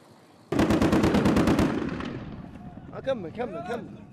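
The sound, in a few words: gunfire shot into the air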